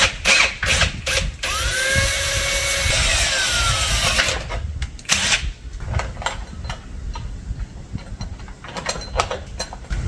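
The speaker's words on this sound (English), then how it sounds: "We're then going to drill two 6mm holes through the fiberglass of the tent" A power drill boring 6mm holes through the fiberglass shell of a rooftop tent, whirring in two bursts with a rising pitch, mixed with ratcheting clicks and handling knocks.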